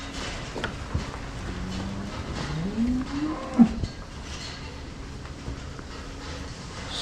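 Dairy cows low in a barn, with a few drawn-out moos rising and falling at moderate distance over a quiet background of shuffling and faint clatter.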